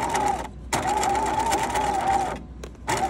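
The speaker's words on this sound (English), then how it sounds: "So a little back stitch" Sewing machine running a short back stitch on a wristlet keychain, a steady close mechanical whir with brief stops and restarts between passes.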